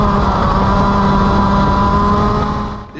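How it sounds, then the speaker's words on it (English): A small kart engine, a Senior Rotax Max, roars loudly up close while misfiring in a corner, running rough with an uneven, sputtering note before fading slightly at the end. "You can hear the engine misfire very clearly in this corner."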